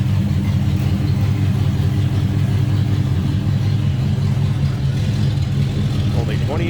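Era-correct 425 V8 in a 1965 Oldsmobile Jetstar 88 convertible idles smoothly and steadily, a low continuous rumble held close throughout.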